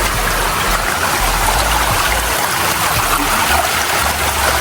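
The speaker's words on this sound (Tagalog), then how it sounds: "Lakas ng agos." A strong, fast water current rushes past, making a loud, steady roar that fills the whole stretch without a break and with no voices over it.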